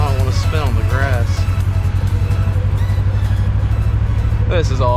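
A Duramax pickup truck drives and spins its tires on wet, freshly snowed grass, its engine a steady low drone heard from inside the cab while people talk over it.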